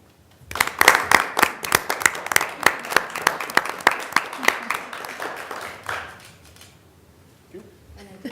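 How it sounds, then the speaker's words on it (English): Applause for a school board member at a board meeting, a small group clapping in sharp, distinct claps that thin out and trail away, followed by quiet room sound and faint talk. "let's have a round of applause for Molly as well"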